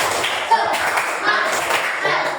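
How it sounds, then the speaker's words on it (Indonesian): A group does a rhythmic spirit clap in unison, sharp hand claps in quick patterned bursts across two seconds, close and fairly loud, with voices mixed in. "Oke, sekarang kompak ya Pak. Tepuk semangat"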